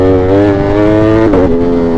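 A motorcycle with a loud aftermarket exhaust revs hard and steady close by, its engine note holding high, dipping briefly and then rising again.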